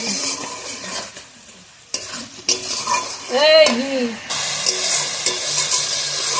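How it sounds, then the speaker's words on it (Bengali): Spice masala with tomato being stir-fried in a pan, a steady sizzle broken by scraping spatula strokes and brief clinks, with a faint voice-like tone partway through. "তো মশলাটা ভালোভাবে কষিয়ে নিয়েছি"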